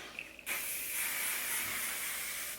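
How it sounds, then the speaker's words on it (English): A short hiss as an aerosol hairspray fires, starting abruptly and continuing as a steady, close spray. "You can spray this directly."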